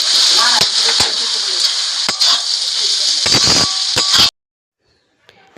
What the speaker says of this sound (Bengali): সবার প্রথম দিয়ে দেবে কটা কাঁচা লঙ্কা চেরা এবার আবারও একটু ভেজে নেবে